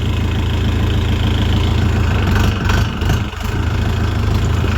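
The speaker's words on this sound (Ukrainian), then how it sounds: "Зараз я трохи газу дам." A loud, close tractor engine chugs steadily, its tone briefly shifting and surging midway before settling back into a rough, even throb.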